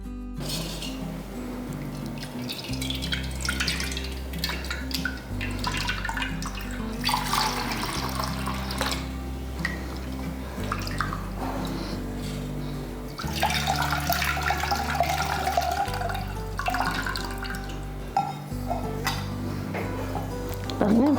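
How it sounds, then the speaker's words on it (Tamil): Dissolved tamarind water is poured from a vessel into a pot while rasam is being made. A continuous liquid pour and splash lasts the whole stretch under steady background music. "இப்போ நான் காமிச்ச புளி இருக்கு இல்லைங்களா அதை வந்து கரைச்சி வச்சுருக்கேன் இதை எடுத்து இதில் ஊற்றிடலாம்"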